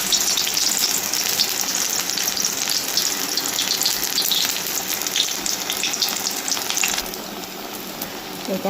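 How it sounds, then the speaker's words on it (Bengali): Batter dipped into hot white refined oil sizzles and fries steadily, a dense crackling hiss that holds loud throughout and eases slightly near the end. "এবারে আমি তেলের মধ্যে ছেড়ে দেবো।"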